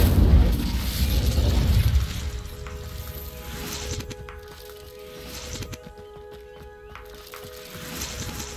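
Incendio fire spell cast in the Hogwarts Legacy video game: a loud fiery burst at the start that trails off into a softer crackling rumble, with quieter magical game effects lingering afterward.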